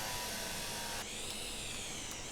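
A power drill whirs continuously in the Derail Valley train video game, a close, steady buzzing motor that dips slightly in pitch partway through.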